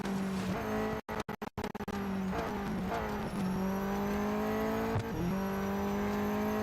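Damaged race car in the Real Racing 3 mobile game, a steady whining engine drone with shifting pitch and a few clipped dropouts near the start, loud and continuous with no talk.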